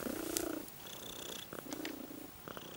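A cat purring up close, soft rhythmic rumbling cycles in a quiet indoor room, gentle and continuous with no voices.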